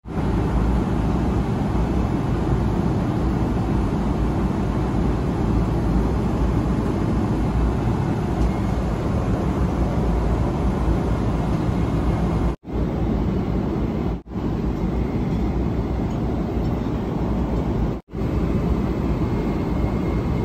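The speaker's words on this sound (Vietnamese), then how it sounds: "Đã lên máy bay rồi này cô chú anh chị ơi." Steady, loud roar of airplane cabin noise after boarding a flight to Doha, a continuous broadband engine and air hum with a few brief dropouts.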